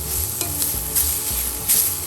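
Ginger garlic paste sizzles loudly in a hot pan for a kheema kofta curry, with a constant hiss and several stirring scrapes and taps.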